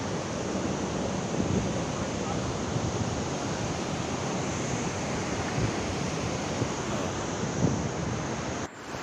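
Steady rushing water of a mountain waterfall near Rambara on the Kedarnath trek roars continuously, a broad wash of noise with faint voices buried beneath, ending with a brief thump.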